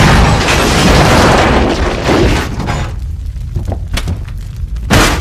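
A movie explosion erupts as a loud, rumbling boom that roars for a few seconds, then thins into scattered crackles and debris before a second sharp burst hits at the end.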